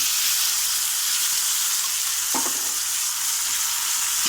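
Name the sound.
soaked sabudana added to the pan and stirred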